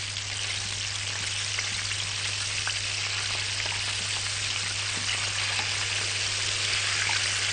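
Steady sizzling of pancake batter frying in hot oil, a continuous crackle with scattered pops, close and moderately loud, with a low hum underneath.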